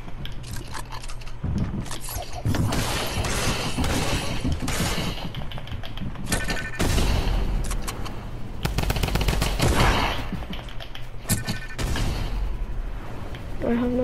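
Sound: shotgun firing in a video game

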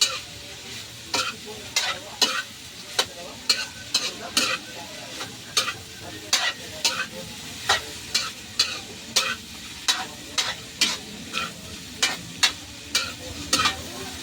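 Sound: stirring pork sisig with oyster sauce, chili, onion in pan

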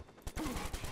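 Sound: gunshot in video game Watch Dogs

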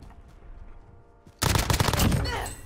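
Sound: sniper gunfire in a video game

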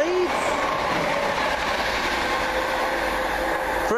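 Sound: passenger train 1R22 passing, Chiltern Railways

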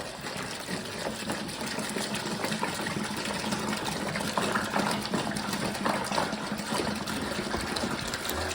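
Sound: pouring water over spices for honey fruit liqueur

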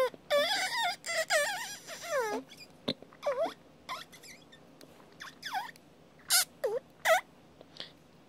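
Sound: kazoo played like a pro

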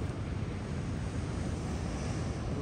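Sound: ocean waves breaking on the shore

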